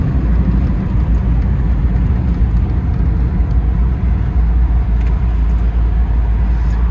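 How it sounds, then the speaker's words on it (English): Air-cooled engine of a 1958 Volkswagen Karmann convertible while driving, a steady loud drone with fan whir and road rumble throughout, no talking. "I love the sound the engine makes."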